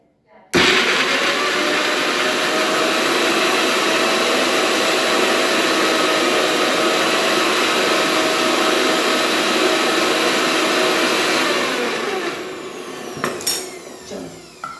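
A kitchen blender pureeing tomatoes runs loud and steady for about twelve seconds after starting abruptly, then winds down with some clattering at the end.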